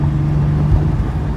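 A Porsche 964 engine runs close and loud with a steady, low droning rumble and an even hum, briefly swelling near the middle.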